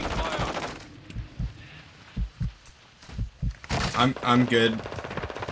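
Gunfire in Call of Duty Warzone on Ashika Island: sharp, close shots fired in short bursts over a brief stretch, then a voice speaking briefly near the end.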